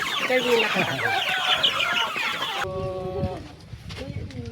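Several chickens cluck and squawk busily close by, with a person talking partway through amid the flock's chatter.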